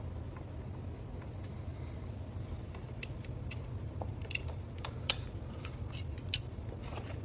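Small metallic clicks and scrapes of screws being turned out of the neck plate on a VSETT 9+ electric scooter, scattered light ticks over a quiet low hum.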